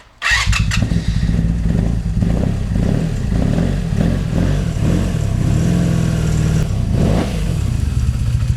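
A Honda Interceptor motorcycle, not run in about a year and with its carburetors overflowing fuel, cranks and catches, then idles loudly and roughly with an uneven, throbbing beat and a few blips of throttle.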